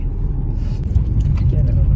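A car overtakes on a road in Kochi, heard as a steady low engine and road rumble from inside a moving vehicle, with a faint rushing pass building toward the end.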